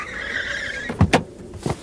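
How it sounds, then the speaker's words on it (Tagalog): A car slows and comes to a stop, its engine hum followed by a few short squealing and thumping bursts near the end, close by, with no talking. "Hinto mo ang kotse, Boyet."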